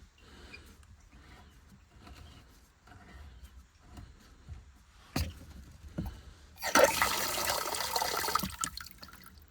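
After some quiet clicks and handling noises, water suddenly rushes loudly into a toilet cistern as the supply is turned back on, and keeps running steadily as it refills.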